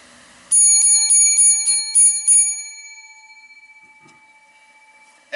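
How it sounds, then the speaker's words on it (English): Rapid series of bright metallic bell strikes ring out loud and close for about two seconds, then a long shimmering decay fades to near silence, with no voices. "seven lucky bells for this week's Progressive Discussions"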